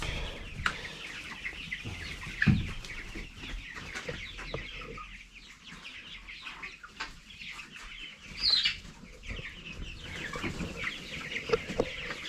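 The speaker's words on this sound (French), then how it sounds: "tous les poulets sont arrivés ici" A flock of chickens clucks and murmurs continuously inside a poultry barn, a dense layered chatter with occasional louder calls and scattered rustling of birds moving nearby.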